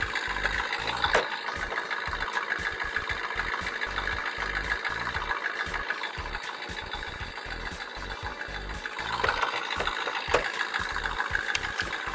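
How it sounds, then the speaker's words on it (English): A radio-control toy car's small motor idles with a steady buzzing hum and rapid mechanical rattle, holding fairly constant and swelling slightly near the end. "The car makes idling sounds, and the engine lights up whenever it's on."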